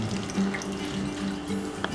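Water sloshes and trickles in a basin as the bottom of a plastic bottle is dipped in to make a bubble snake, a steady close splashing with small drips.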